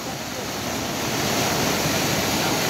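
Very strong water rushes nearby in Mati, Davao Oriental, as a loud, continuous roar that swells slightly and never lets up.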